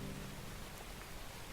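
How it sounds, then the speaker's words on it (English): Steady rain from a video game's weather effect, a short even hiss of falling water with no voices. "Oh look, the rain's working."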